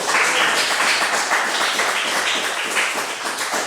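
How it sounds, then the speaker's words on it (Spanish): A church congregation claps and applauds in praise, a steady, dense wash of many hands that continues evenly throughout. "Denle un aplauso al nombre de Dios."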